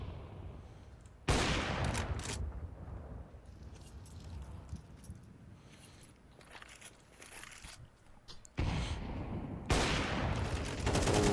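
Rifle gunfire in a video game esports match: sharp, loud bursts of rapid shots open the clip, give way to quieter scattered fire and footsteps, then return as heavy sustained volleys near the end.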